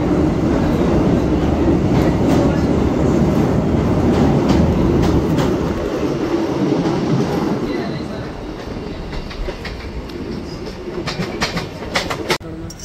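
A train runs along the rails toward Sumawali station on the Gwalior to Joura line, with a steady rolling rumble and rhythmic clatter. The rumble eases in the latter half as sharp clicks and clanks come through more clearly.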